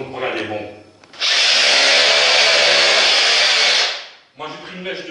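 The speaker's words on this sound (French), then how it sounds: "Moi, j'ai pris une mèche de 6 mm parce que je vais y installer des chevilles à frapper de 6 mm." A power drill fitted with a 6 mm bit bores a hole into a wall for hammer-in anchors, one loud steady high whine of about three seconds, near, with someone speaking French just before and after.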